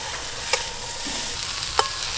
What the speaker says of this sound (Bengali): পালং শাকের ঘন্টর জন্য সবজিগুলো খুব বেশি লাল করে ভাজার দরকার নেই,